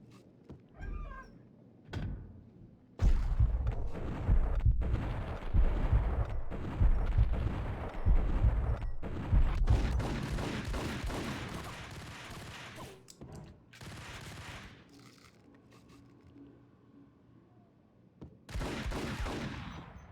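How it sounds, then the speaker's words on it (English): Machine gun fire in the PC game Max Payne rattles in a long, loud sustained burst, with scattered single shots before it and a final burst later after a quieter stretch. "Here's the machine guns."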